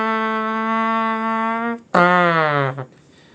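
A human voice imitates a trumpet in beatbox style: one long steady buzzing held note, then a short sharp attack into a second brassy note with a slight falling pitch, close and alone.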